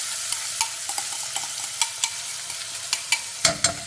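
Onion, garlic and spices fry for dal over fairly high heat, a bright continuous sizzle punctuated by regular clicking stirs of a utensil, close and without talk.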